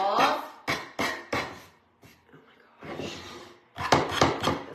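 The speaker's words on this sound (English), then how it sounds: "so I'm just going to sand that off." Sandpaper rubbed over a painted wooden flag craft to remove excess blue paint, a few short bursts of close scratchy strokes separated by brief pauses, no talk.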